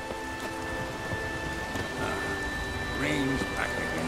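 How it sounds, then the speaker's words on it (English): Steady rain hiss with low rumbling thunder in the Witcher 3 game world, a soft continuous wash with a brief swell near the end, faint voice-like tones mixed in. "Rain's back again."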